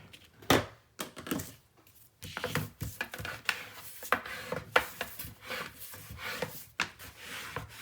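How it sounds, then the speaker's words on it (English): A burnishing tool is rubbed firmly over the paper pages of an 8 x 8 mini papercraft album, making close, dry scraping strokes in uneven bursts, some sharp and louder, others soft and brushing. "And then we'll give these a good burnish."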